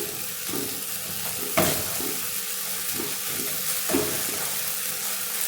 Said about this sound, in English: our tomatoes are well cooked. So Just going to mash them.